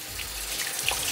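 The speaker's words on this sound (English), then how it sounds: "Let's begin by washing our ingredients with water and vinegar." Tap water gushes steadily over fruit being washed with vinegar in a home kitchen, giving a continuous close splashing rush for about a second with no talk over it.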